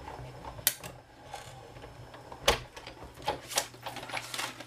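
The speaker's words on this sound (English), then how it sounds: "run that through the Big Shot with the same circle that we cut out the layer with" A Big Shot die-cutting machine runs card through with a circle die, giving quiet mechanical clicks and a few sharp ratcheting clacks, close and without talk.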